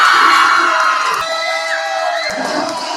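Crowd cheering at a local outdoor-league basketball game, a loud burst of shouts and whoops that peaks at first, then settles into a lower sustained roar with scattered yells.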